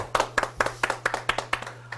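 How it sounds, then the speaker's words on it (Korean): Rhythmic clapping in a small studio welcoming a guest, a handful of people striking hands in a quick steady beat, close and clear over a faint electrical hum. "박수 치겠습니다."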